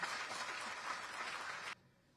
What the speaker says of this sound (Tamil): ஒரு பெரிய கைத்தட்டலோட can we hear it for